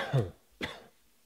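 A single harsh cough followed by a second shorter cough, close to the microphone, then quiet.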